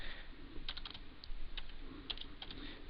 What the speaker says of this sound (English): Now I have to type in the IP address.